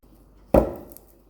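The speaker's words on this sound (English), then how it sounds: "I'm just going to start chopping my soap" A single sharp knife chop into a block of melt-and-pour soap lands cleanly against a quiet background and decays over a short moment.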